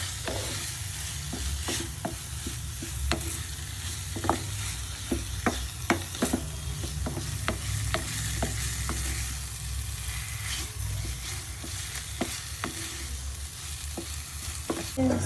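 Bitter gourd (karela) stir-fries in a pan with a continuous sizzle and frequent sharp clacks of a spatula stirring against the pan, steady and close throughout.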